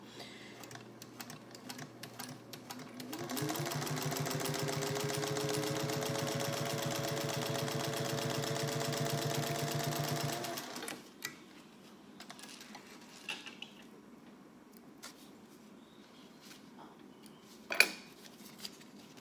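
A sewing machine stitches a leather trifold wallet in a quiet workshop, running as a steady mechanical whirr for about seven seconds, followed by small handling clicks and taps.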